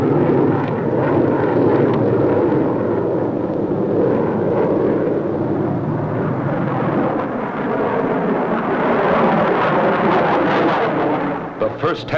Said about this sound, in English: Turbojet engines used in assisting takeoffs of our giant bombers are studied